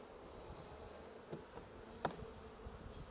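Honeybees buzz steadily around hive frames being shaken and moved, a continuous low droning hum with a few slightly louder passes close by.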